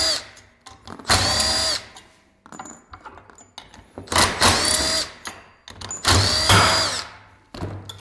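Power tool with a 10 mm socket removing bolts from a 2021-or-newer Turbo RZR or Ranger clutch, three loud close whirring bursts with metallic rattles and clinks between them.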